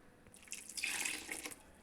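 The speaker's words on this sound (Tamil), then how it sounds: "மீனில் தேவையான அளவு தண்ணீர் சேர்த்துக்கோங்க." Water poured into a tamarind fish curry in a home kitchen, a short soft splashing trickle that swells and fades, quiet with no talking.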